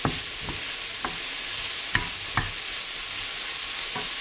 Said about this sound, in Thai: แต่ผักก่อน ผัดให้เขาสลด